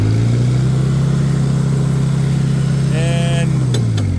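A Farmall Cub tractor engine runs with a loud, steady hum close by, then shifts in pitch briefly toward the end as the throttle is worked.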